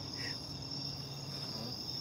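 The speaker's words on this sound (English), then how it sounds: "Can you ask those bugs to quiet down? I can't hear you." Crickets chirp in a steady, continuous high trill, fairly close and alone without talk.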